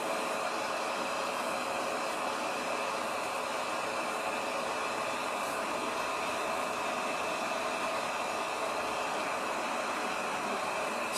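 A hair dryer blows heat during a natural hair care routine, a steady, even whoosh of airflow that runs unchanged from start to finish with no talking over it.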